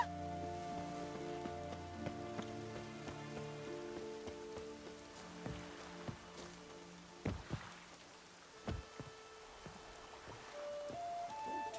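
Rain pattering steadily on surfaces in The Witcher 3, a soft continuous wash under sustained musical tones, broken by a few sharp nearby knocks and splashes.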